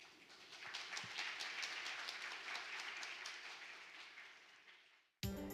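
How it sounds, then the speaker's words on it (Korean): A lecture-hall audience applauds to welcome a brain-science researcher to the stage at a science forum, a steady wash of many hands clapping that fades toward the end before a brief cut. "정 박사님 모실 때 큰 박수로 맞아주시기 바랍니다."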